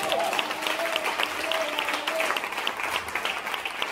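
A church congregation claps and cheers in acclaim of the women present, steady applause with scattered vocal calls running throughout.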